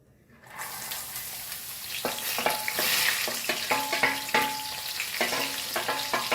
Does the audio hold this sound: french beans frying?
yes